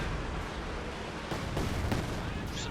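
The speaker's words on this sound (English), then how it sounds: "Got a Katyusha barrage instead here." Katyusha rocket artillery barrage in Company of Heroes 2, a faint run of distant crackling impacts and thuds over a constant low rumble, getting somewhat busier toward the end.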